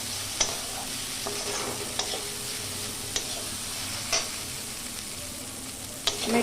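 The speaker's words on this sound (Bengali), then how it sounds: "এটা আমি হালকা নাড়বো, খুব বেশি নাড়বো না।" Washed flattened rice (chira) frying in a pan and being stirred gently, with a steady sizzle and occasional sharp scrapes of the spoon against the pan at a slow, irregular pace.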